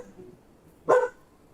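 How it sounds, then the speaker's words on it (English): Dogs barking indoors, a single sharp close bark bursting out after a quiet lull, then fading back to low room noise. "the dogs are losing their minds again"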